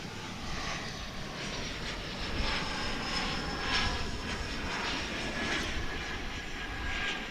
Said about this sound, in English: So here comes the flight from Amarillo